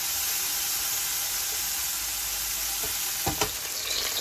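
Steady, loud sizzling of peppers and onions frying in a pan, with a couple of brief clatters of stirring near the end.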